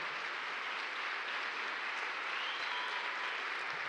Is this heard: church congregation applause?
yes